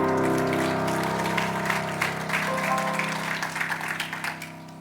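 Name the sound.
congregation applause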